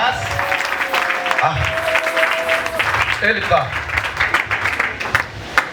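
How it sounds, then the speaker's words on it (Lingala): Congregation applauding during a Sunday church service, a steady wash of clapping that runs through the whole stretch, with voices talking over it and brief musical tones in places. "Acclamez plus fort."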